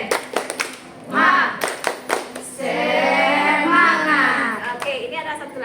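A group of students in an Indonesian school counselling session performs a rhythmic spirit clap, with crisp patterned hand claps first, then voices chanting and cheering together over the claps.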